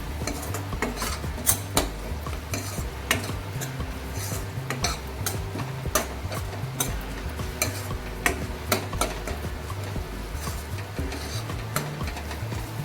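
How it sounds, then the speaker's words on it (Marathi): Steady stirring and scraping of spices frying in a pan for a prawn dish, with a soft sizzle underneath, spoon clinks and scrapes recurring throughout, close and fairly busy. "आता हे चांगलं मिक्स करून घेणार आहोत आपण एक दोन मिनिट परतवूया"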